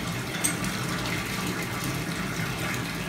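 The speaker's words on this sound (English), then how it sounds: "We want to fill the rinse sink right underneath the rinse" Tap water running steadily into a rinse sink of a three-compartment dishwashing station, a continuous broadband rush with a small splash near the start and no talking.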